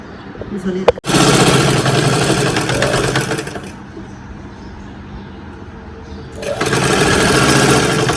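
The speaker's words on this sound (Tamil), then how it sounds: "இது ஸ்ட்ராங்காக இருக்கிறதுக்காக வேண்டி இன்னும் ஒரு தையல் கூட நீங்கள் அதில் போட்டுக்கிடலாம்" Sewing machine stitching saree fabric into an Anarkali dress, running in a steady loud whir after a sharp start, easing to a lower hum midway, then speeding up again; a voice talks alongside.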